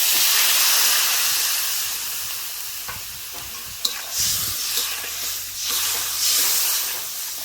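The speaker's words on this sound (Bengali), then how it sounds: "পরিমাণ মতন হলুদ, জল দিয়ে দিচ্ছি।" Water and turmeric hit a hot pan in the making of a Bengali egg fritter curry, releasing a loud, broad sizzling hiss with steam. Occasional stirring scrapes and clicks sound under it, and there is no talk.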